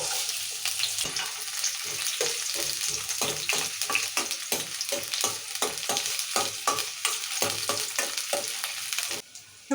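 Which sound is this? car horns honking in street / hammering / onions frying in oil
onions frying in oil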